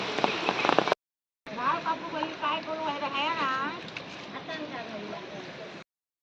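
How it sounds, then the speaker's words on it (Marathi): Rain patters steadily on paddy fields, a soft hissing spread of drops under a person talking nearby, with a brief gap of silence early on. "आता पाऊस चालू झालेला असा"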